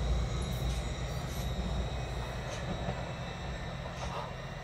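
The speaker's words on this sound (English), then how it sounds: "Train now approaching Stagger Platform 1." A steady low rumble of a train rolling into Platform 1 at Whittlesea station, with faint metallic squeals and rattling wheels over a continuous roar, no voices.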